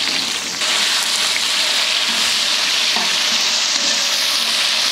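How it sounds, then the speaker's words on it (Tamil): Onions for a vegetable biryani frying and being stirred in a pan, a steady loud sizzle with occasional scraping, no voices. "வெங்காயம் வந்து நல்லா பொன்னிறமாக வறுக்கணும்"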